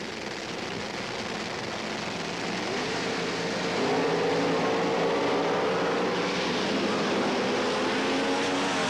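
Drag racing cars making a pass at the 1977 NHRA Gatornationals in Gainesville, Florida: a loud, sustained, roaring engine wash that swells partway through and holds, heard from a distance without talk.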